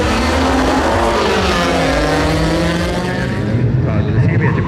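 Drag racing cars accelerate hard at a Baltic dragstrip, a VW Golf spinning its wheels at the start beside a BMW. A loud engine roar rises steadily in pitch, then fades into distant rumble.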